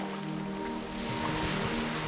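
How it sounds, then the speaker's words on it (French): Ocean waves wash and roll in a soft, continuous surf with a steady breathy roar and a gentle swell partway through, moderately distant and calm, with no voices. "observez le mouvement lent des vagues."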